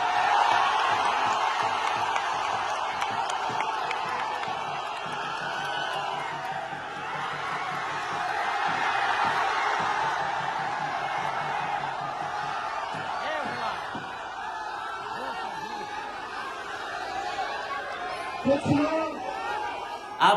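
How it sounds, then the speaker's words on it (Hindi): A large outdoor crowd at Tejashwi's Jan Vishwas Yatra political rally makes a steady roar of chatter and calls, with scattered shouts and a few louder thumps near the end. "किस कदर भीड़ उमड़ी हुई है।"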